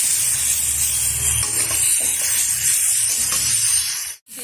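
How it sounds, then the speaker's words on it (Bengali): Boiled chicken sautés with salt in a hot pan, giving a loud, steady sizzle and hiss close by. Occasional stirring scrapes cut through before the sound drops away at the end. "দিয়ে দিচ্ছি সিদ্ধ করে রাখা চিকেন, দিয়ে দেবো পরিমাণ মতো লবণ। এবার খুব ভালোভাবে কিন্তু কষিয়ে নেব।"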